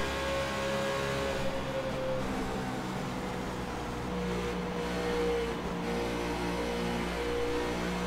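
Onboard engine of the Custom Vapes Chevrolet Xfinity Series race car at Texas, a loud steady roar with sustained high revs and slight pitch shifts throughout, no talking.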